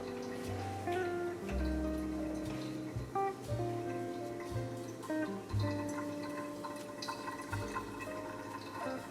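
Water poured over ground Ka'u coffee from Hawaii during a pour-over brew, a soft trickling and splashing stream with gentle gurgles, close and quiet, no talk.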